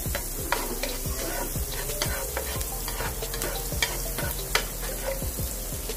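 Chopped onion sizzling in a hot frying pan, a steady bright hiss broken by repeated scraping strokes of a utensil stirring it, close and clear with no voices.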